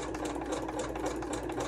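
Sewing machine stitching around the perimeter of a fabric masterboard, a fast continuous mechanical whir with rapid needle ticks, close and steady.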